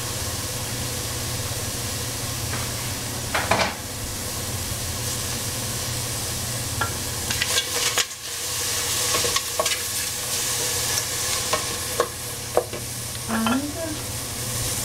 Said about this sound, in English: We have some capsicum cooking.